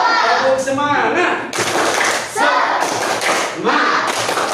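Children perform the Tepuk Semangat chant in a classroom, with bursts of rhythmic clapping and thumping mixed with their chanted voices in several quick phrases.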